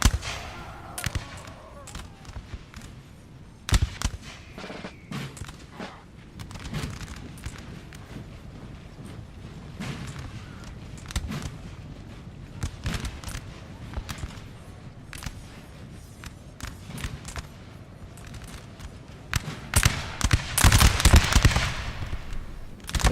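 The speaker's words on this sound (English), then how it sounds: "Seem to get an officer shooting." Scattered musket shots in a Napoleonic war video game, sharp isolated cracks spaced irregularly over a low battlefield din, with a denser cluster of reports near the end.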